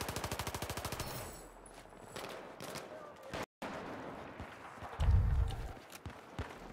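A rapid burst of suppressed MPX submachine gun fire in Battlefield 4, fast evenly spaced shots up front, followed by scattered in-game movement sounds and a heavy thud.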